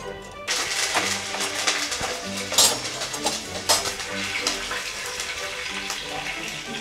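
Curry leaves, fenugreek seeds and dried red chillies dropped into hot oil for Nellore-style masala vada pulusu crackle and sizzle steadily and loudly close up, with scattered sharp pops and spatters.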